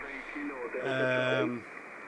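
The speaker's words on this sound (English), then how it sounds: "I'll switch the audio on for the radio" Radio audio plays through a stream in a short, moderately quiet burst of voice-like broadcast sound lasting about a second, then fades back to a low hum.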